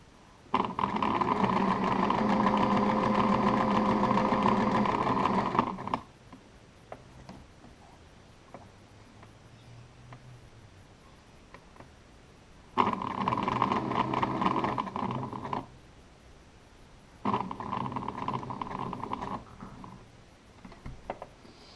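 A sewing machine stitches fabric for a pot plant cover in three loud, close bursts of steady whirring, the first about five seconds long, separated by quiet pauses.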